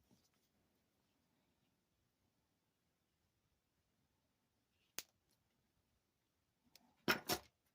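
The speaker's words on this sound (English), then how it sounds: "I'm going to cut my wire." Beading wire snipped with cutters, two sharp isolated clicks a couple of seconds apart, the second louder and followed by a brief rattle, near and otherwise quiet with no speech.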